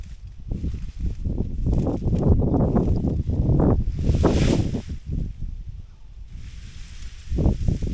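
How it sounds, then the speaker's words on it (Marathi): Strong wind sweeps across open Konkan rice fields, roaring and buffeting the microphone in loud, uneven gusts with brief lulls between them. "वारा पण भरपूरच सुटला आहे."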